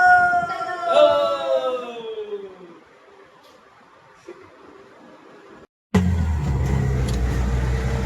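An auto rickshaw engine running, first a whining tone that falls away into a low idle, then after a brief cut a steady, louder rumble of the motor.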